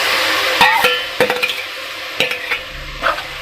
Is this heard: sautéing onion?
yes